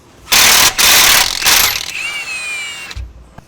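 A ratchet fitted with a 24mm socket works an engine bolt on a 5.3L Silverado V8 during a cam swap, giving loud, fast clicking bursts in three runs followed by a fainter metallic whir and a light clunk at the end.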